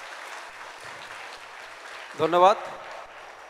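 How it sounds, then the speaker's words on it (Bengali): A school audience claps in a steady, soft wash of applause that runs throughout the clip, while a voice briefly speaks over it near the end. "একবার জোর হাততালি, অনেক জোরে, ভীষণ জোরে হাততালি, কাঁপিয়ে দাও"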